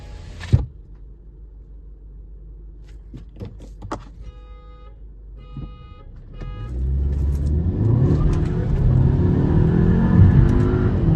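A Skoda Octavia 1.8 TSI at a drag race starts with scattered clicks and faint electronic tones. Then a deep engine rumble builds and climbs steadily in pitch as the car revs hard, loud and close for the last few seconds.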